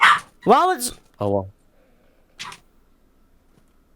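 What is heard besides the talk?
dog barking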